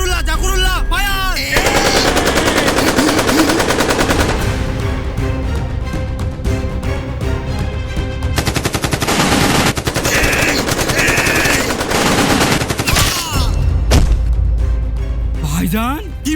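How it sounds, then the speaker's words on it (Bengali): Machine gun fire in an army war film bursts out in long rapid rattling volleys, loud and near, with shouted voices at the start and near the end and a brief pause before a final burst. "চালা গুলি!"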